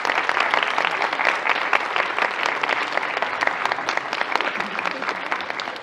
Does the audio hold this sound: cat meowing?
no